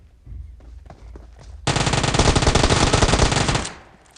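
Automatic gunfire from the PUBG Mobile battle royale game: a few scattered quieter shots, then a loud, dense, sustained burst of rapid fire for about two seconds before it fades out.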